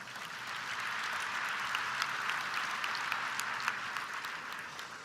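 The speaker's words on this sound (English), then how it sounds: "Give yourselves a round of applause." Steady applause fills a large hall at the American Federation of Teachers 2022 convention, a dense, even wash of clapping from a big audience, moderately distant and continuous without speech.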